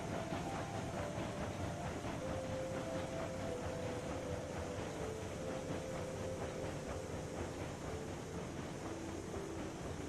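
Steam locomotive hauling loaded coal cars on a coal mine run in Railroads Online, a steady rumbling chug with rhythmic clickety-clack of wheels and a faint whistle-like tone, continuous and moderately close throughout.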